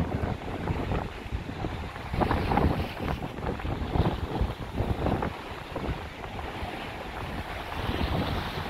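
Wind blows by the sea on a walk along the Blackpool seafront, rough fluctuating buffeting with surf-like rushing, moderately loud and continuous in gusts, with no talking.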